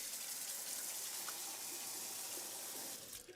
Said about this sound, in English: What I'm going to do is just rinse it off,